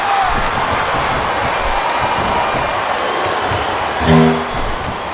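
Arena crowd in the WWE SmackDown vs Raw 2007 wrestling game keeps up a steady, loud roar of cheering throughout, with a brief swell near the end.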